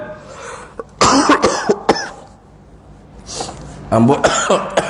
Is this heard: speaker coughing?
yes